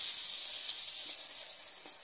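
A minimally seasoned swordfish steak hisses and sizzles on a hot griddle, a steady bright frying hiss that fades slightly toward the end, close and without talk.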